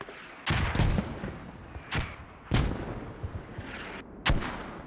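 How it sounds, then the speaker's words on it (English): Mortar rounds landing on a capture point in the military video game Squad, four heavy booming impacts spaced about a second or two apart with rumbling tails, loud and close. "The mortars are landing pretty much right in the middle of the objective"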